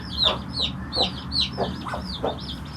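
A feather-footed village hen clucks in a steady run of short, bright calls, about five or six in under three seconds, close by over a low background rumble.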